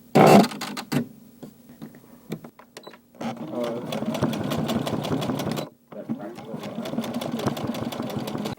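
Sewing machine stitching bus seat upholstery, heard in two sustained runs of rapid mechanical whirring separated by a brief pause, after an opening burst and some handling noise; occasional voice murmurs underneath.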